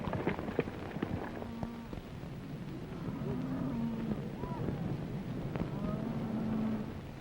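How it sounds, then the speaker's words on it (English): A herd of cattle out on the range lows in several drawn-out moos, some near and some farther off. The calls rise over a steady rumbling background, with a few sharp knocks early on. "Nice-looking bunch of cattle."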